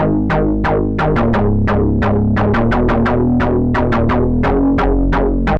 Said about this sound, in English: the Serum patch that I made for this particular bass pluck